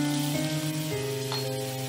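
White cooking oil and butter sizzle steadily in a frying pan as a shakshuka egg breakfast is started, a continuous close, even frying hiss with no talk.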